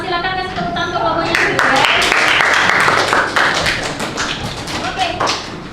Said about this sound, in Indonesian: Silakan kasih tepuk tangan untuk kelompoknya.